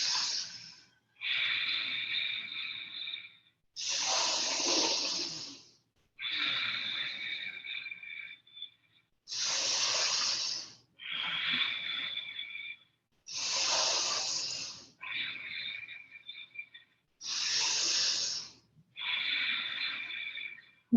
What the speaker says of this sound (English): Inhale and exhale strong.